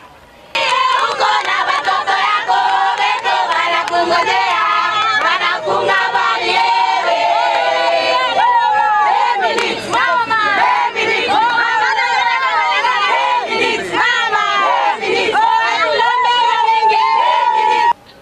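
An excited crowd of mothers greets Marie Loubouli at an airport, a loud continuous mass of shouting, ululating and chattering voices with sung cries rising and falling throughout.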